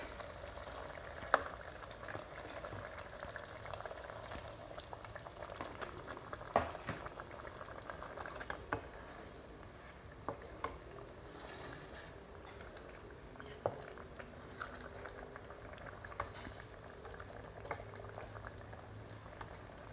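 Red snapper simmering in asam pedas, a spicy sour fish stew, gives a steady close bubbling and boiling with scattered small pops and plops throughout, and no one talking.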